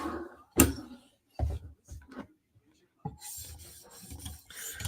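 A Spyderco Slysz Bowie knife being sharpened to a mirror finish, giving short, separate rasping strokes of steel across a stone followed by a longer stretch of quick scraping passes, close and fairly quiet.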